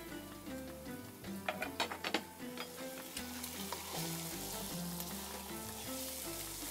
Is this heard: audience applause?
no